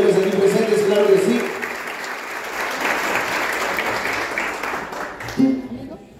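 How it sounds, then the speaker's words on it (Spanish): Audience applause at a mariachi performance for International Women's Day, a dense, steady wash of clapping throughout, with a voice speaking over it near the start and again briefly near the end. "El aplauso para todas las hermosas mujeres aquí presentes"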